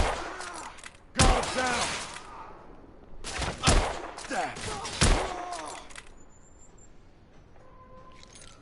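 Gunfire from The Order: 1886 on PS4 Pro rings out in a few loud, separate bursts spread across several seconds, each followed by a ringing tail, with a brief spoken callout between them.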